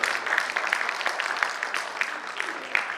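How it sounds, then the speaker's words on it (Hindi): An audience applauds at a university foundation day ceremony, with steady, fairly loud clapping that continues throughout and individual claps popping out of the sustained wash. "उस मंशा के लिए हम आपसे फिर एक बार तालियों की गुजारिश करते हैं।"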